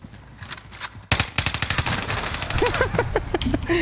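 Rapid automatic gunfire in a battle royale video game, with dense bursts of shots close and loud, continuing in quick repeated volleys.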